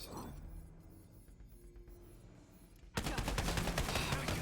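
Rapid gunfire from the looter-shooter game Tiny Tina's Wonderlands breaks out abruptly partway through, loud and dense after a quieter stretch of game ambience.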